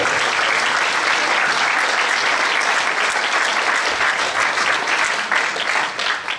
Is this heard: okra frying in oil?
no